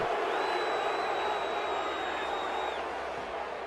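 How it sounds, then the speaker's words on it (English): A steady, loud roar of stadium crowd cheering fills a baseball video game recreating early-1900s teams, holding at an even level with a thin tone sweeping above it before it eases off slightly. "oh, listen to that crowd"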